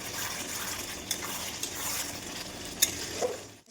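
Fried potatoes stirred and sautéed in a pan for a rui fish curry, a continuous soft sizzle with occasional scraping clicks of the spoon, fairly quiet throughout.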